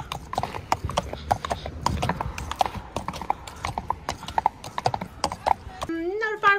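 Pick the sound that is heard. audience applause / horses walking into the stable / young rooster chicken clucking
horses walking into the stable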